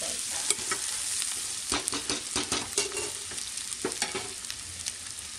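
Mutton boti pieces fry in ginger-garlic masala for a Telangana-style curry: a steady, close hiss of sizzling oil broken by repeated scraping and clattering as a spatula stirs the pan, with no voices.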